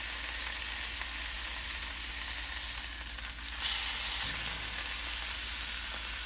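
Short ribs sear in a hot pan, a steady broadband sizzle holding even and close throughout with a brief swell of crackle partway through, no voices.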